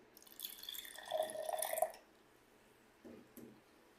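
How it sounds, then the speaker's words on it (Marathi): Water is poured into a bowl of sweet chaat chutney: a short, close trickling pour lasting under two seconds, followed by a couple of faint drips in an otherwise quiet kitchen. "आता ह्याच्यात थोडं पाणी घालून"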